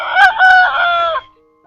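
A breeder Aseel rooster crows loudly and close by in one full call of about a second, with a short rise at the start and a long held note, then quiet.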